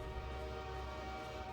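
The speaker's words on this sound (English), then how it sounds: "sounds like we got another train coming" A train approaches in a 2000s-era video game, heard as a sustained, horn-like tonal drone over a low rumble that holds steady for the whole moment without speech.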